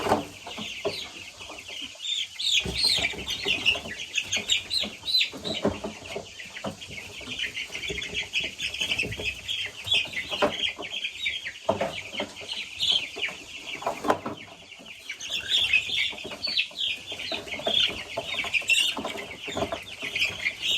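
Young chicks in a brooder clucking and peeping nonstop, a dense chorus of overlapping calls close by with occasional wing flutters, no talking.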